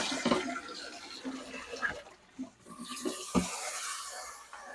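Water drains out of a portable washing machine through a hose after a rinse cycle, a steady rushing, gurgling flow with small splashes and a brief lull midway, heard alone.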